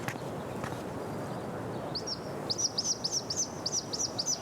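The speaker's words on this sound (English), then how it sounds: "I wonder if this is the bird that woman is looking for." A bird chirping in the video game Life is Strange: True Colors: a run of quick, high, bright chirps repeated in an even rhythm, clear against quiet background ambience, beginning after a faint first call.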